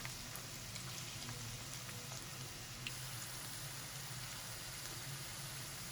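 Okra frying in oil over moderate heat, a soft steady sizzle with faint crackles, quiet and even throughout.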